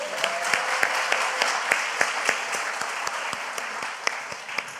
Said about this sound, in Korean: 박수 한번 하게, 박수